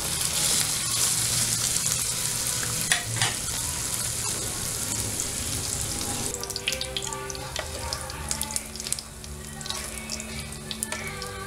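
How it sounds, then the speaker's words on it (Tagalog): Potatoes and carrots frying in hot oil for menudo, a steady loud sizzle with bubbling crackle that turns busier and spattery partway through, with a brief splash of water near the start. "Susunod po natin iprito ang patatas. At carrots."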